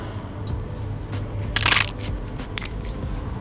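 The crumbling old oil filter housing gasket of a BMW E46 engine gives a brittle, crackling crunch that bursts loudly for a moment, followed by a few small sharp clicks over low background hum.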